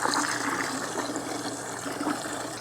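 Water runs steadily from a 1/2 inch Vevor garden hose on a reel, a loud, even rushing flow that continues unbroken throughout.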